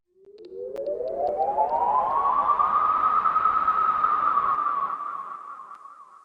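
A smooth rising whoosh swells up over several seconds, holds, then fades out gently, like a sweeping riser effect between music sections.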